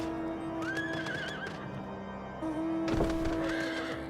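Horse neighing in a video game, two distinct whinnies with rising and falling pitch, clear and fairly close, over game music and faint clip-clop of hooves.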